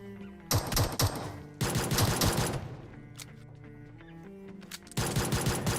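Gunfire from a pistol in PUBG Mobile comes in two loud rapid bursts, a short pause between them, and a third burst starts near the end. Scattered single game sounds fill the quieter stretch in between.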